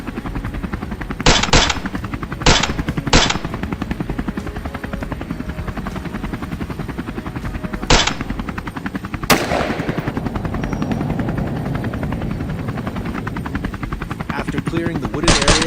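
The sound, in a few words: rifle gunshots while hunting wild boars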